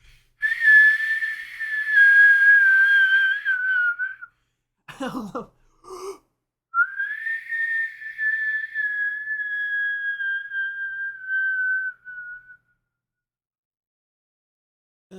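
A person whistles a long wavering tone that mimics an airplane flying overhead, dropping slightly in pitch, broken by breathy gasps and a short spoken greeting before a second sustained whistle fades out.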